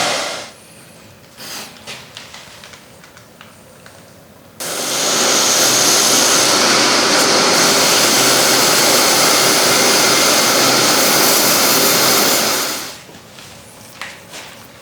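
A power sander grinds a part for a Hope threading jig with a left-hand spindle: a loud, steady whirring roar lasting about eight seconds, bracketed by quieter workshop handling clatter before and after.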